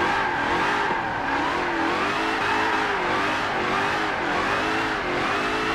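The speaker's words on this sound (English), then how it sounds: "That was one of the smoothest drifts I have pulled off in this game" Dodge SRT Demon drifting through a long right-hander in the Forza Motorsport racing game, its engine roaring steadily with a continuous wavering tire squeal layered over it throughout, loud and close with no talking.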